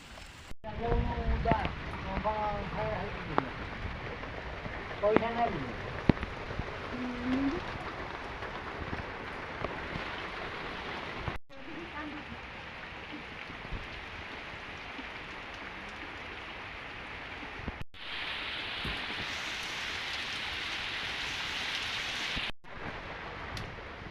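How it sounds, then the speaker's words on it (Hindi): Heavy rain driven by strong wind gives a constant hiss and patter that shifts in intensity across several cuts, with a voice talking over the first part. "आप सब देखिए प्रबल वर्षा सहित पवन बेग केते मात्रा अच्छी आप अनुमान कर।"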